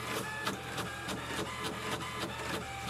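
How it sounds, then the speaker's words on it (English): An HP Envy Pro 6420 inkjet printer prints with a steady, loud mechanical whir and regular rhythmic clicks of the print head moving back and forth, close by with no talk. "Now it's printing."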